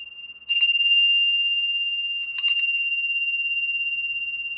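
A small souvenir bell is struck twice, each strike a bright metallic clang followed by a long, pure ringing tone that decays slowly and keeps sounding after the second hit in a quiet room.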